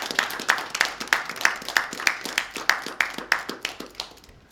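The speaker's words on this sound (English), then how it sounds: "Can we get a round of applause from you?" A live television studio audience applauds in steady, rhythmic clapping with an even beat, about three claps a second. It continues for several seconds and then tapers off.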